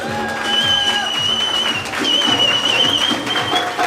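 Guests applauding at a Turkmen wedding celebration in Istanbul, steady crowd clapping under loud music with a high whistling tone, sustained throughout.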